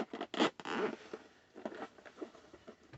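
Zipper on a bag from an online order pulled open in short, close ripping strokes, a couple of quick bursts followed by smaller intermittent tugs.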